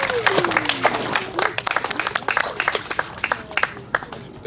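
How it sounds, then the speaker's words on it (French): A congregation applauds at a baptism, a dense run of quick, overlapping claps filling a church hall at steady volume, with faint voices mixed underneath. "Acclamons pour le Seigneur."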